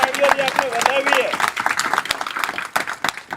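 Audience applause at a religious gathering, a short burst of clapping rising after a voice speaks and then continuing as scattered claps.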